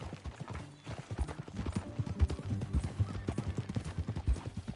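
Horse hooves clip-clop in a steady rhythmic gait while riding in Red Dead Redemption 2, fairly close and moderately loud, with occasional faint creaks of tack alongside.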